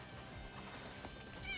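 A cat meows briefly and quietly in the game Crimson Desert, a short, faint call heard on its own.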